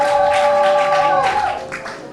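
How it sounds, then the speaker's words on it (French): A church audience claps loudly at a golden wedding anniversary celebration, a dense wash of applause over sustained music that thins and fades toward the end. "Sur vos applaudissements, très fort, très fort."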